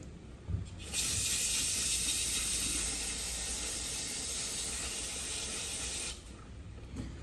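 Graco GX-7 sprayer parts, used for concrete lifting, are sprayed down for cleaning: a loud, steady hiss of spray starts abruptly and runs unbroken for about five seconds before cutting off.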